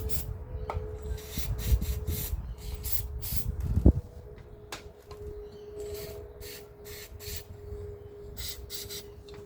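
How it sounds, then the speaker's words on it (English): Short hissing bursts of aerosol lubricant spray around a spark plug on a 1968 Datsun 1000 engine repeat in quick succession, close by, with light rubbing and a metallic knock underneath. "So I'm just going to spray a little bit in around the plug"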